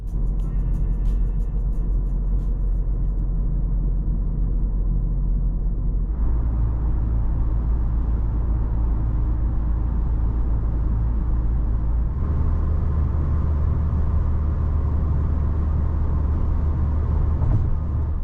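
Steady interior cabin drone of a 2006 Peugeot 607 2.0 HDI diesel, with continuous low rumble and road noise. The tone shifts in distinct steps as the car accelerates, and no voices are heard.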